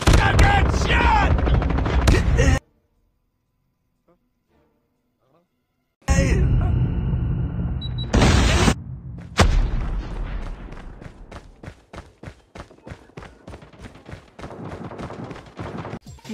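AK47 fire in the Call of Duty game, loud bursts of rapid shots and booms, then a silent gap before a long run of repeated cracks, mixed with game voices and talk.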